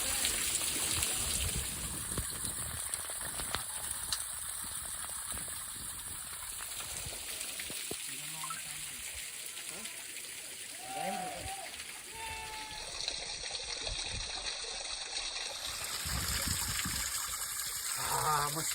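Water gushes steadily from a spring at a hill fort as people fill drinking water, a constant close rushing stream with brief voices talking over it.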